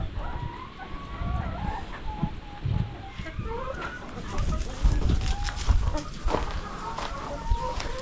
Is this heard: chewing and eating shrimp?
no